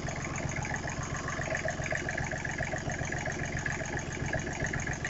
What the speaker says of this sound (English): By accident, I discovered that this is a Briggs & Stratton diesel.